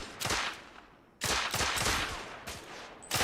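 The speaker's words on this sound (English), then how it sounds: "Fire your weapon." Gunfire from a weapon in the video game The Order: 1886, a series of loud, close bursts of rapid shots with short pauses between volleys, no talk.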